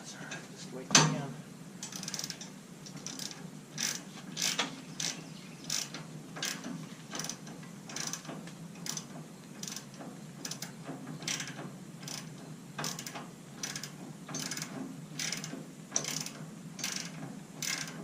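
A ratchet wrench turns a bolt while a 212 engine is installed on a Yerf-Dog go-kart, giving a long run of regular, fairly quiet clicking strokes at a steady rhythm.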